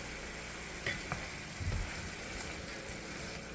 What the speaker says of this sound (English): We'll stir it up a little bit.